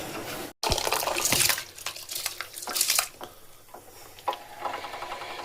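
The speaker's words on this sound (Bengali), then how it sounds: "গরম জলের মধ্যে দিয়ে দিলাম আমি গোবিন্দভোগ চালগুলো।" Soaked Gobindobhog rice goes into a pot of hot water with a short splashing pour, followed by watery stirring and light clinks of a utensil against the pot.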